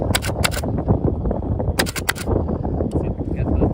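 An HPA Nerf blaster, the "HPA Thing", firing darts at a BAM club game: sharp pneumatic cracks in quick pairs and short bursts, loud and close, over background chatter and crowd noise.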